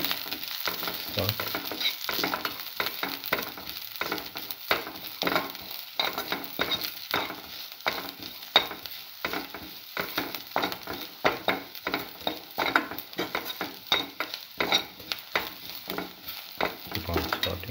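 Garlic and spinach sautéing in a pan with salt, a steady close sizzle with frequent scraping stir strokes throughout, and no voices.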